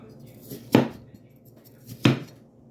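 A knife cuts through a ripe watermelon, making two distinct, fairly close chopping thuds about a second apart against a quiet background.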